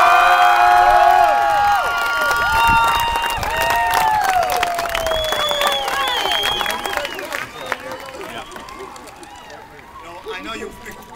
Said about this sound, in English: So let's give India Company another round of applause.